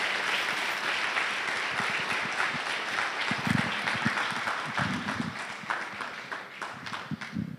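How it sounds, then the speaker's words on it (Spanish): Audience applause at a cardiology symposium on heart failure, a dense, steady clapping crowd filling the room for several seconds, with a few louder close claps standing out. "yo les pido un gran aplauso para este equipo"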